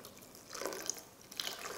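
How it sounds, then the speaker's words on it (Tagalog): Faint splashing and trickling as water is poured into a cooking pot of burger steak sauce, two short pours close by in a quiet kitchen. "Dadagdag lang ako ng tubig dyan."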